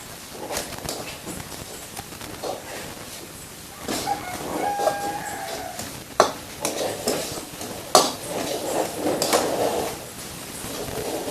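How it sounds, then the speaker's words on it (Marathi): Grated fresh coconut gets stirred into sugar syrup in a hot pan for coconut barfi, with scraping spoon strokes and thuds at an uneven rhythm and soft bubbling underneath. "आता आपण यात खोबरं टाकू मस्त खोबरं मिक्स करायचं"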